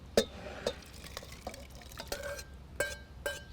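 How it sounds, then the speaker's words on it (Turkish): A spoon stirs ingredients in a cooking pot for a Turkish cold soup with wheat, chickpeas and beans, giving a few sharp scraping clinks at irregular intervals, close up and fairly quiet. "Tenceremin içinde karıştıracağım hepsini beraber."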